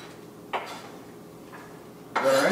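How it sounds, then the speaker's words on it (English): Onions dropped into a skillet with olive oil: a soft clatter and brief pan noises come first, then a sudden, steady hot sizzle bursts up close and keeps going. "put a little olive oil in the skillet and put our onions in there."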